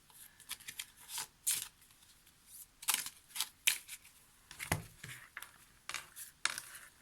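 Oracle cards for a love reading being shuffled in the hands, a run of soft crisp riffles and slaps in uneven bursts, close and quiet with no talking.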